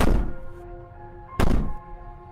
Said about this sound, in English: Bang on the door all you want.